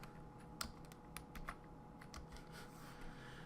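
Typing on a computer keyboard during a Minecraft session: faint, scattered key clicks over a low steady hum, with a few sharper taps spread through the short stretch.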